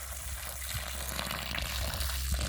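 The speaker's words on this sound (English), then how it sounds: "because it has not rained for a while, so the ground is quite dry, so I'm going to water it" Water running steadily over dry garden soil on a small organic farm in the countryside, a continuous soft gushing hiss with no voices.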